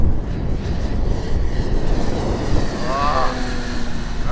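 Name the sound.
Sig Yak-18 RC model plane engine at full power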